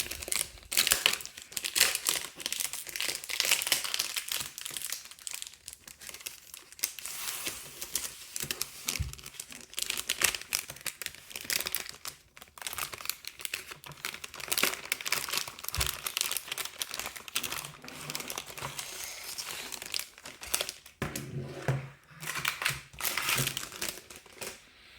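Plastic packaging crinkling and tearing as an iClever wireless keyboard with a metallic gray body is unwrapped, close and continuous rustling and crackling in irregular bursts for a long stretch, with no talk.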